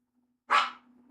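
A dog gives one sharp, fairly close bark over a low steady hum, and a second bark starts just as the clip ends.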